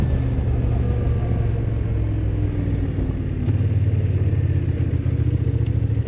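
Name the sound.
Kymco AK Premium scooter accelerating at full throttle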